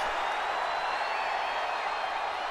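A wrestling video game crowd cheers during a match in an arena, a dense, steady roar of voices and applause that holds level throughout without speech on top.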